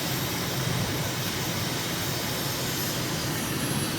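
Steady, loud airplane engine roar from a climbing aircraft just after takeoff in Microsoft Flight Simulator, a continuous broadband drone holding constant for the whole stretch with no voices.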